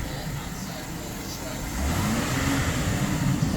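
A car engine revved and held near 2,000 RPM during a BG intake and fuel service, a steady mid-pitched drone that rises partway through, with a voice speaking over it.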